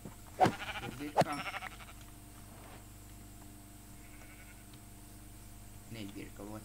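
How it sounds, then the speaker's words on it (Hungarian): Sheep bleat a couple of times near the start, fairly close, then the scene settles into a faint background hum with a softer animal call near the end and people talking quietly. "Négy birka van."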